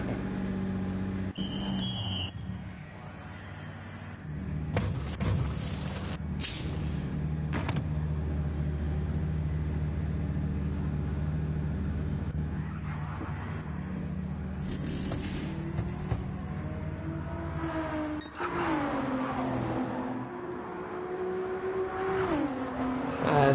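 Porsche race car with rear aero and suspension damage in the pits at Bathurst during the 12 Hour endurance race, its engine revving and blipping with rising and falling pitch while other cars whir and roar past.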